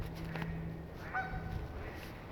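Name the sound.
geese honking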